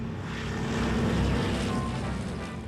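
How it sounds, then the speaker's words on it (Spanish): Four-engine propeller aircraft of the Cold War era drone steadily overhead, a continuous loud, low rumbling hum with a layered engine tone and no break. "El constante ruido de los 4 motores de los aviones es insoportable."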